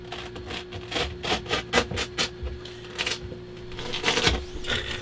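Strong Velcro tears away from a cushion in a series of short, loud ripping bursts, with pauses between pulls and a final harder rip, close by and with no talking over it.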